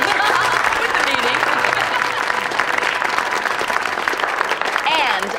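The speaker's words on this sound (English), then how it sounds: "I think we owe a round of applause to our master chef of the evening, Mr. Andrew Browning" Dinner guests applaud the master chef, Mr. Andrew Browning, after his meal, a steady, dense round of clapping from a room of people with voices chattering through it, sustained for several seconds.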